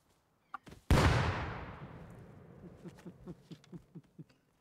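A grenade in the video game Rust bursts in midair with one loud, sharp blast and a long fading rumble, followed by a series of softer rhythmic thuds.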